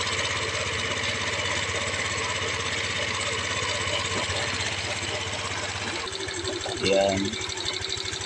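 A car engine idles steadily while warming up during an overheating check with a suspected faulty thermostat, a continuous close mechanical drone, with a brief voice cutting in near the end.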